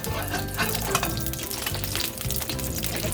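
Oil crackles in a pan set up for pad thai, giving a loud, dense, continuous frying sizzle with no voices over it.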